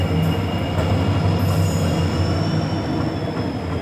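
A WDP4D diesel locomotive hauling an express train passes close by, a loud steady rumble of wheels and engine with faint high squeals above it.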